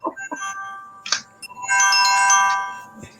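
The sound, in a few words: phone ringtone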